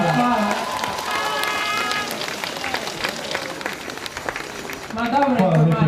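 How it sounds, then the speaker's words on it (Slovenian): A crowd at Tina Maze's homecoming reception in Črna na Koroškem applauds her with dense, sustained clapping that runs under a loud voice and swells again near the end. "aplavz za Tina zdaj na kajteri v Rio"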